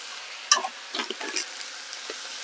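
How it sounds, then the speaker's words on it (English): Pork stirred in a hot frying pan, with a sharp clink near the start followed by soft scraping stirs and light sizzle, close and moderately quiet with no talking. "Just keep stirring your pork as you go as well."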